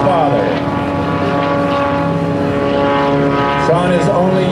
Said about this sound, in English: bring this aircraft to a hover in front of you